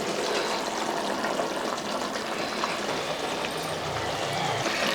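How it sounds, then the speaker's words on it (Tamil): Water poured into a pan of okra curry with ground masala paste, a steady broadband splashing rush running the whole time at close range, with no voices. "இப்போ நம்ம எவ்வளோ குழம்புக்கு தண்ணி தேவையோ அந்தளவுக்கு தண்ணி சேர்த்துக்கலாங்க"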